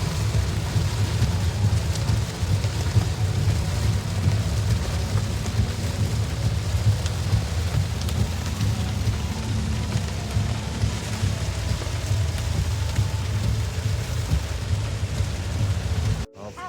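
Heavy rain drums steadily and loudly on a car, an AION V, during a drive, with a dense continuous roar of water over low road rumble and no pauses.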